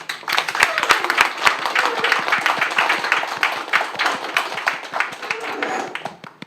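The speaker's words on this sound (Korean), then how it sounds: "오늘의 주인공 우리 고상구 회장님 박수로 모시겠습니다" Steady clapping from a crowd at a formal gathering, dense and continuous throughout, with some voices mixed in beneath.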